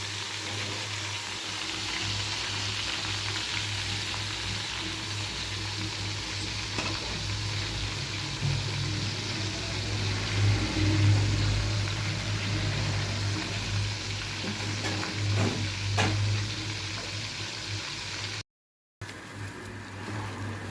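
Mutton vadas coated in powder fry in a pan of hot oil, a steady bubbling sizzle that runs on for a long stretch with brief soft stirring sounds and a short dropout.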